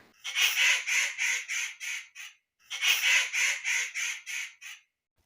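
Two bursts of harsh cartoon crow cawing, each a run of about six rapid calls that fade toward the end, close and clear with silence between.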